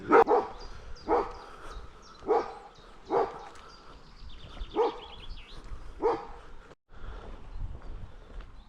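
A dog barks repeatedly, about seven loud barks spaced roughly a second apart, fairly close, with faint outdoor background between them.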